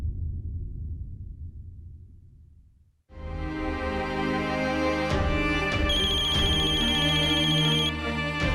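After a brief low rumble fades out, a phone ringtone starts playing loudly, a repeating electronic melody that continues to the end.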